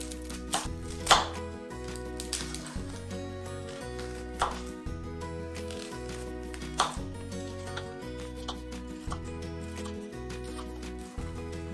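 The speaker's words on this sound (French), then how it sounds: "On émince un oignon." An onion being sliced with a knife on a board, a steady run of quick even cuts with a few heavier thumps, close and clear, no voices.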